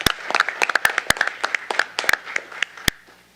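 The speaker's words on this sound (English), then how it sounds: "let's give a round of applause" Applause at a city council meeting after proclamations, a small group clapping nearby with distinct sharp individual claps in an uneven rhythm that tapers off.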